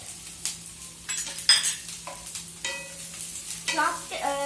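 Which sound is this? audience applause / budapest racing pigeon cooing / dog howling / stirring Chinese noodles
stirring Chinese noodles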